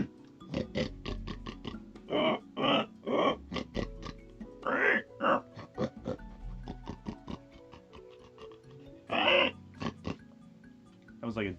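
A human voice imitates a pig, making a series of nasal oinks and grunts in short bursts close to the mic. Some bursts stretch into longer squeals between quick choppy ones.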